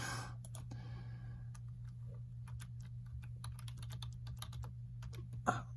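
Fingers tap out a password on a computer keyboard in a steady run of close, crisp key clicks, with a low constant hum of room or computer noise underneath and no talking.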